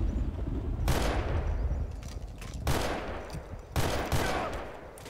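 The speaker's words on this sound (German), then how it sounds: "Ich muss dir leider ins Gesicht schießen." Three sharp, loud gunshots from Garry's Mod Trouble in Terrorist Town crack out over a few seconds, each with a short echoing tail, over a steady background murmur.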